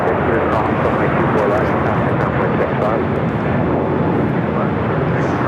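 An airliner lands on runway 24 right at Los Angeles International Airport (LAX), filling the scene with a loud, steady jet engine roar that holds without a break, with possible talk beneath it.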